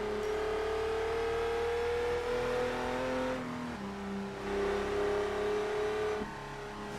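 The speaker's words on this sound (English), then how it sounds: "I would argue all the noises in this game do the cars justice." A car engine in the video game Test Drive Unlimited 2 on PS3 holds a steady rising whine, drops as it shifts gears, then climbs again, loud and close with no talking.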